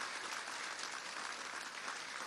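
Audience applause for a young officer at a Venezuelan pension ceremony, a steady, fairly faint wash of clapping with no talk.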